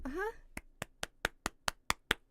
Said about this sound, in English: Ready to clap with me?